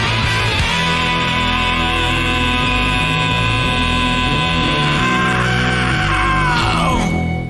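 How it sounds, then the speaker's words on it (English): A loud, sustained scream sound effect is played back, one long strained human shriek holding steady for several seconds before breaking off at the end. "Is that your integrity scream?"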